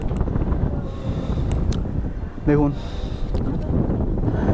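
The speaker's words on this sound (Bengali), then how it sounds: "বেশ সুন্দর ঠান্ডা হাওয়া দিচ্ছে এখান থেকে।" Cold wind buffets the microphone on a hilltop viewpoint in Kurseong, a constant rough rumble running throughout, while a person speaks over it and a brief tonal whistle cuts in midway.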